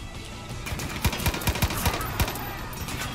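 Enemy gunfire from a rooftop in Far Cry 5, a rapid series of sharp distant shots in a steady rhythm over a noisy battle background.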